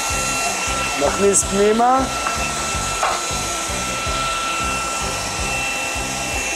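A food processor grinds pecans and other pesto ingredients (lemon zest, olive oil) in steady, loud, continuous motor whir throughout, with a brief spoken phrase partway in.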